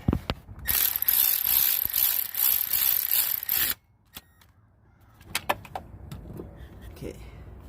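A 12 mm bolt being tightened on the starter of a 2005–2006 Nissan Altima SE-R 3.5L, a rapid ratchet clicking run for about three seconds close up, then a few sparse metallic taps and clinks.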